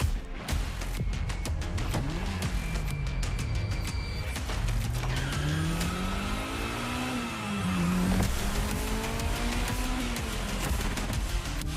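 A Ferrari engine in a The Crew Motorfest racing game cutscene revs and rises and falls in pitch continuously, loud and close, with tire noise and no talking.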